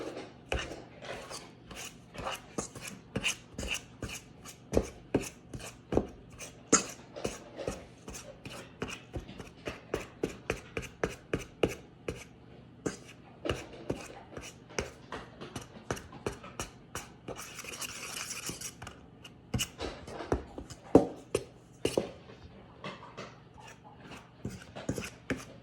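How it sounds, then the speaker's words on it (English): A fork mashing butter into flour for tortillas in a bowl, making a long run of rapid, close scraping and clicking strokes in uneven rhythmic bursts. "we're gonna grab a fork here. We're just gonna mash and mix this butter in here."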